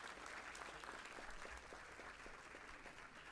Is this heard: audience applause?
yes